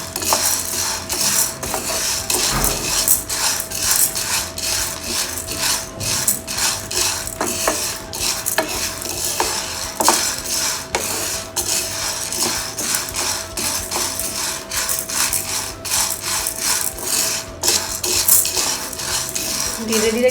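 Sattu stir-roasted in a pan over a low flame for a sweet Rajasthani Teej treat, with a steady run of metal spoon scrapes and clinks against the pan. The scraping continues close and fairly loud for the whole stretch, and no one speaks.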